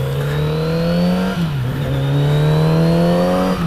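A 2018 Kawasaki Z900RS motorcycle engine pulls hard on a test ride, a loud close steady drone rising in pitch, briefly dipping at a gear change, then climbing again.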